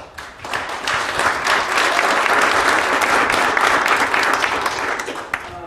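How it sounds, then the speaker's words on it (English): An audience applauds construction sponsors at a peer group event, the clapping swelling in quickly into a loud, dense round from a full room that holds steady before easing off. "So we could do a quick little round of applause"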